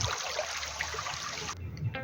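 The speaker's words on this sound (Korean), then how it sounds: "실제 물소리입니다." Continuous gentle rush of a flowing mountain valley stream in Yangpyeong, South Korea, close and steady, cutting off near the end, followed by a soft clatter.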